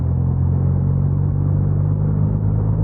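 Steady low engine rumble from a Benelli TNT300 motorcycle cruising on a highway, a continuous near drone with no break throughout.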